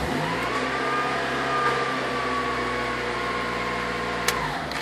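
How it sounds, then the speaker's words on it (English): A Honda Accord engine, after a delayed fuel pump activation fault, turns over and catches, then runs at a steady idle with a sustained hum, close and fairly loud, ending with a brief click. "The car will start now."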